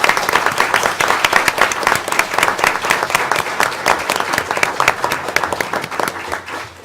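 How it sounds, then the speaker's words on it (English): An audience at a school board meeting applauding students, dense sustained clapping from many hands that fills the room at a steady level before tapering off at the end. "Let's give all of these students a round of applause"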